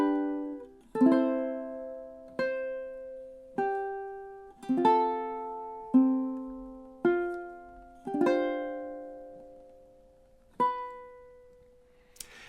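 Ukulele playing measures 15 to 18 of a song, a steady sequence of about nine plucked notes and chords, each ringing and fading before the next, clear and close with no voices.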